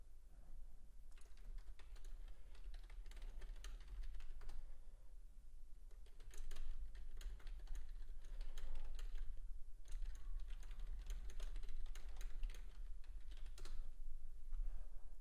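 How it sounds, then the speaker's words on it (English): Continuous clattering of keys on a computer keyboard, quick irregular bursts of typing throughout, close and fairly quiet, with no voices. "If you do hear typing, that's just me making alerts in the chat room that I offer."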